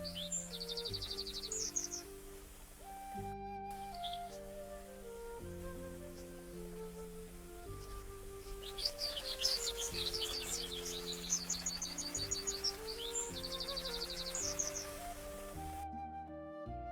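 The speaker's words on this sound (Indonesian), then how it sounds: "Nah, ini contohnya untuk suara burung ya." AI-generated peaceful morning forest ambience: bursts of bright chirping birdsong come and go over a soft, looping bed of low sustained tones, fairly quiet overall with brief dropouts.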